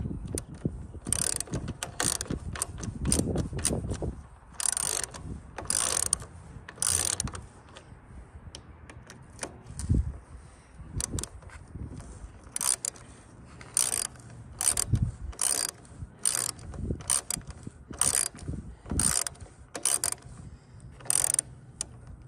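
Repeated ratcheting and mechanical clicking while the carburetor is tightened onto a Troy-Bilt 875 EXi engine, with bursts of quick clicks separated by short pauses and some low handling thuds, close by with no voices.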